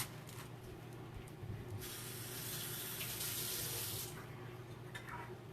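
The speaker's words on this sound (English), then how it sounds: "Hey, I'm going to rinse this off." Water running from a kitchen sink tap to rinse an item, a steady hissing stream that swells louder midway, with no talking.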